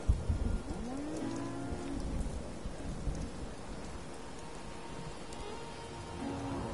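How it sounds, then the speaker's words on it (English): Brahmin cattle in a video game give low, drawn-out moos over a steady rain-like background hiss, with one loud moo near the start and more fainter ones later. "Oh, the cows."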